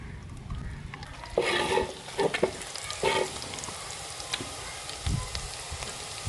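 Onion sizzles and crackles steadily in hot ghee, with a few louder bursts of spattering and stirring scrapes over a soft frying hiss.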